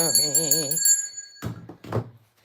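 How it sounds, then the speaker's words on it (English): A bell rung at an evening jewelry auction gives a bright ringing tone with a wavering shimmer for under a second, then fades into muffled thuds and brief voices nearby. "You guys don't care if I ring that damn bell, do you?"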